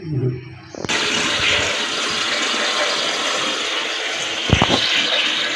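Water rushes into the cistern of a newly fitted high commode after a flush, a steady hissing fill close by, with a brief clunk of the mechanism near the end.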